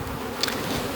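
Honey bees from a Lutz breeder queen line buzz in a steady, close drone that holds at an even level throughout, with a brief louder pass partway through.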